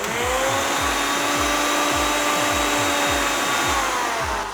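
A blender jug of spinach and a little water for a vegan saag aloo curry runs at full speed, a loud, steady motor whir with a rhythmic low chopping pulse throughout, no voices.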